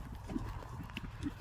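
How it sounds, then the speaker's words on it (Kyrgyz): A Kyrgyz racehorse gallops close by, its hooves striking in rapid, rhythmic clip-clop beats over a dense, steady background. "1-номердеги ракета Кайман атындагы кыргыз жылкы болуп атат"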